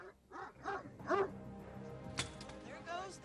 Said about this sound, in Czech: Když psi vidí jít někoho po ulici, okamžitě štěkají.